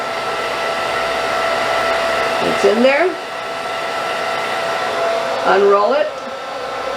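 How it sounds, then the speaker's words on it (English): A handheld blow dryer whirs steadily and close throughout while hair is dried over a rolled brush, with a brief rising-and-falling change in pitch twice as it is moved; a person speaks quietly under it. "place your blow dryer and unroll it over the blow dryer"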